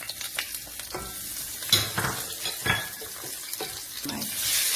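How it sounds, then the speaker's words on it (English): Garlic and whole spices frying in a pot on the stove for a fish curry, giving a steady close sizzle with intermittent stirring scrapes and clatters. "I've got my pot on the stove, and I'm going to put in my garlic, and the whole spices."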